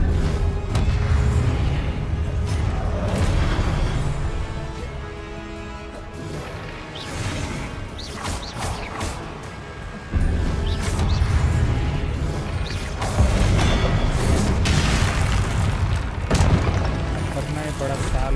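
Fiery blasts from the Confringo explosion spell in the Hogwarts Legacy video game boom and crash loudly over a dense, rumbling mix of game effects, sustained across the whole stretch.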